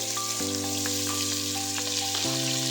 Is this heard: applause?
no